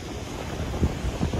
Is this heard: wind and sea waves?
yes